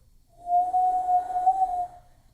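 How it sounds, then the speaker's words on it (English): A person whistles a single sustained, steady note that wavers slightly in pitch, clear and close, lasting about a second and a half, with no talking. "I have a very unique whistle."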